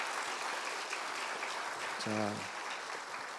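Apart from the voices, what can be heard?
audience applause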